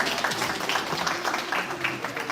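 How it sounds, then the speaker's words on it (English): A congregation at a synagogue Shabbat service with a pet blessing applauds, a dense, continuous wash of clapping that stays close and even throughout. "Let's give Wally a round of applause"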